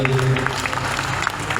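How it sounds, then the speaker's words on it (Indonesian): Audience applause breaks out at a political gathering in Indonesia, a brief burst of dense clapping with a voice heard through it. "Bapak Awalil Rizki, tepuk tangan untuk Bapak Awalil,"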